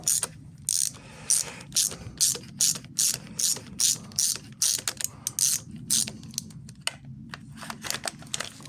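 A hand ratchet loosens the valve cover bolts on a car engine in a sequence of sharp, clicking strokes separated by short pauses, close and clear.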